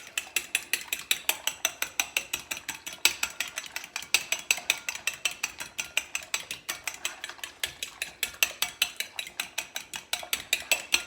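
Quick rhythmic clinking of a utensil against a bowl while chicken Kiev ingredients with a little milk are mixed, steady repeated ticks throughout, close and fairly faint with no talk.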